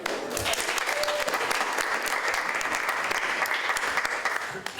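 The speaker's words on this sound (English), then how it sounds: "Can somebody give Meg a round of applause for Ryan?" A round of applause breaks out among attendees at a municipal meeting: steady, moderately loud clapping from a modest crowd that holds evenly, then tapers slightly at the end.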